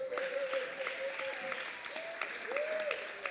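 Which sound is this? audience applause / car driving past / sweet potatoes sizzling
audience applause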